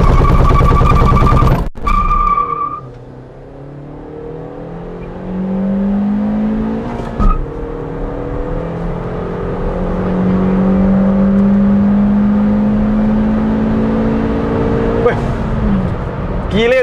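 A car engine revs hard, then roars up through rising gear tones as it accelerates quickly, loud and close, with a brief gearshift break midway.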